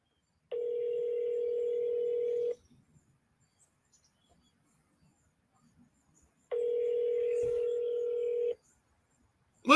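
A telephone call rings out on the line: two long, steady ringback tones about two seconds each, separated by a silent gap, clear and alone with no talking.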